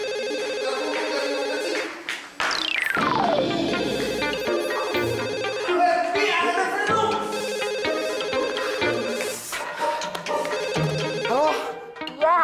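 A telephone rings repeatedly over a busy background, the ringtone loud and sustained throughout, during a phone call to Jakarta in an Indonesian drama scene.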